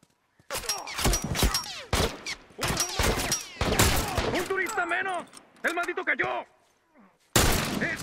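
Video game gunfire crackles in loud bursts of rapid shots, several volleys separated by short pauses, mixed with in-game voices and effects.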